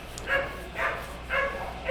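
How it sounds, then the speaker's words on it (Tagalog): Several neighbourhood dogs bark and yip in repeated short bursts at a moderate distance, fairly faint over a steady background hum. "Gising na yung mga aso ng kapitbahay at nagtatahulan sila."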